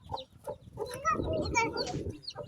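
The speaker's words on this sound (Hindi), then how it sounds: "हम मुर्गे को ऊपर ले आए हैं, जहाँ पे मैं बाकी मुर्गियाँ रखी है" Hens and a rooster cluck together in a poultry coop, a mix of near and overlapping calls with some background voices.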